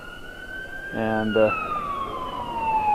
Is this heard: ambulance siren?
yes